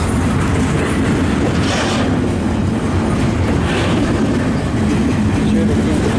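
A Kansas City Southern freight train led by SD70-series locomotives rolls past close by, a loud, continuous rumble of engines and wheels with clattering rail noise, while people talk over it.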